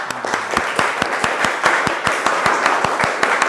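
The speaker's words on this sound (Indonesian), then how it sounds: "Kasih tepuk tangan dulu untuk Silka ya dan kita semua ya." A classroom group applauds together, dense overlapping hand claps with sharp individual smacks in a steady, lively rhythm, loud and close throughout with no talking over it.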